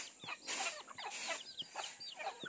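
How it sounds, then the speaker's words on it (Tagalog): Chickens at a rural house yard cluck and chatter in quick, overlapping calls. The busy, fairly close flock fills the short stretch without a pause. "Yung mga manok."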